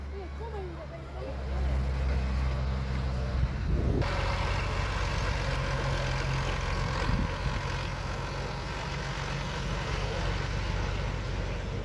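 The return shuttle bus at a vintage steam rally runs close by, its engine a loud continuous low rumble that swells after a few seconds and holds steady to the end, with faint outdoor background noise.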